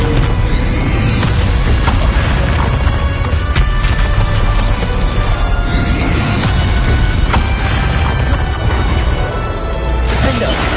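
Bombarda spell blasts erupt in Hogwarts Legacy amid constant loud combat noise, with repeated crashing impacts and booms layered over a dense, unbroken roar.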